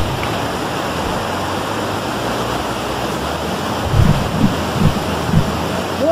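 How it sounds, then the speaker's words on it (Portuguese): Two large waterfalls on the Rio Bonito at Juti send up a continuous loud rushing roar of falling water. A few faint tonal sounds come through briefly near the end. "Então são dois saltos de água bem grandes."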